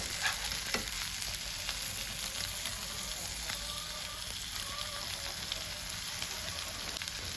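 Rava-coated bangda mackerel fish frying in hot oil, a steady close sizzle and crackle that holds evenly throughout with faint utensil stirs.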